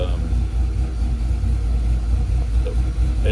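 A car engine idles steadily during idle tuning, giving a continuous close low rumble with slight uneven pulsing and no change in pace.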